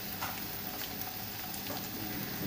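Fish frying in hot oil, a steady, even sizzle with faint crackles and pops running throughout, close and fairly quiet, with no talking.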